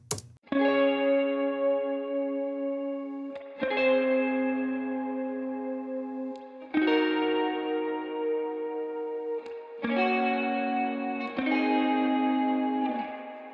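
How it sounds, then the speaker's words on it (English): Sustained electric guitar triads ring out in short groups, each struck and held with chorus-like shimmer before the next change, played alone with no voices. "I've also got this electric guitar layer here, which is doing just these little triads"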